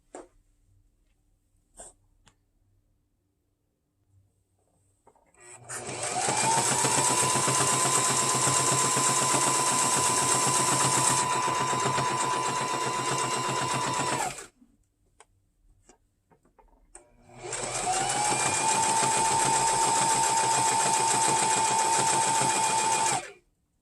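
A sewing machine stitching a knit beanie runs in two long continuous bursts with a steady whirring hum, close and loud, separated by a pause with faint handling clicks.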